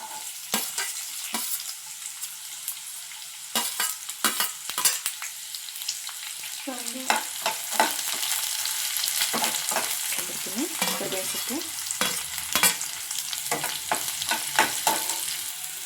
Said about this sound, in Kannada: ಸ್ವಲ್ಪ ಈರುಳ್ಳಿನ ಗೋಲ್ಡನ್ ಬ್ರೌನ್ ಬರೋವರೆಗೂ ಫ್ರೈ ಮಾಡ್ಕೊಳ್ಳೋಣ